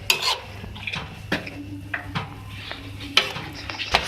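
A spoon stirs masoor dal with ridge gourd and finely chopped garlic in a pan, making soft scraping and occasional sharp clinks against the metal over a faint background hum.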